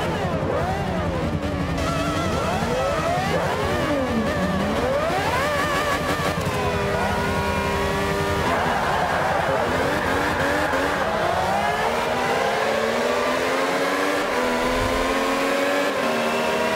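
The engine of a 1998 Ferrari F333 SP race car, No. 12 Risi Competizione, in Forza Motorsport 5: a loud, continuous, high-pitched wail rising and falling through rapid gear changes, then settling into a long, sustained climb in pitch.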